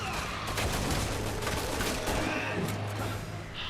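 Rapid, dense gunfire rattles from a co-op session of the video game Resident Evil 6. The volleys are loud and continuous, like automatic weapons firing in sustained bursts, and a few faint voices sit underneath.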